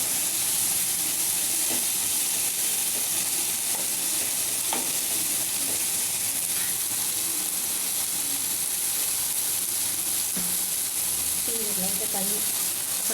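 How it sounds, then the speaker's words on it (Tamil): Chopped capsicum sautés in a hot pan for a mixed vegetable sabji, a steady loud sizzle and hiss with intermittent scraping stirs of a spatula close by. "குடமிளகா போட்டு அதையும் கொஞ்சம் நல்லா வதக்கணும்"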